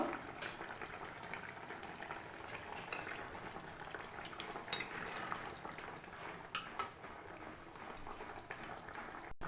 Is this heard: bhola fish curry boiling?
yes